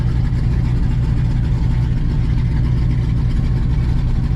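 A modified 1997 Camaro Z28 with a cammed V8 and its exhaust cutout open drones loudly and steadily while driving, a deep continuous rumble with a choppy lope, close and with no voices.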